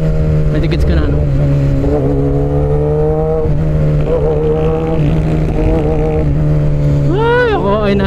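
A 1000cc motorcycle engine runs steadily and loudly throughout, its pitch climbing and falling as it revs, with a brief sharp rise near the end and a constant low drone underneath.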